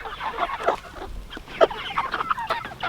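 Chickens cluck and squawk on a homestead in a busy, overlapping chorus of clucks and short honking calls from several birds nearby, with no talking over them.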